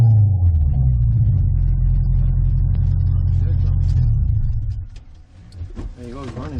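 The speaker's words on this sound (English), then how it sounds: "Rev limit. You hear that? Right there's your rev limit." A Honda B20 VTEC engine held against the rev limiter, a loud buzzing drone that cuts abruptly after about five seconds, followed by quieter rumbling and a person talking.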